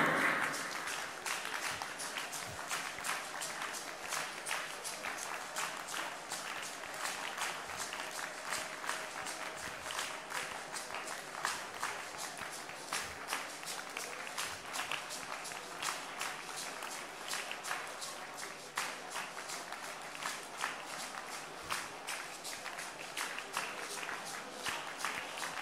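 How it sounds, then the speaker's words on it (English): A church congregation claps hands during prayer at a live service. The claps come as fairly quiet, steady, rhythmic clapping with a faint room murmur, running evenly throughout. "Clap your hands and begin to pray."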